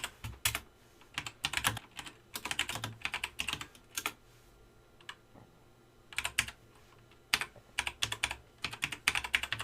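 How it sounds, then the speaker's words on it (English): Keywords for an SEO tool are typed on a computer keyboard: close, crisp bursts of rapid key clicks come in quick clusters separated by short pauses, with no voice present. "then just type in a few different keywords"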